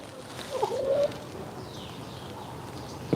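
A pet bird coos on an outdoor patio: a single soft, close, low coo in the first second, followed by faint ambient outdoor noise.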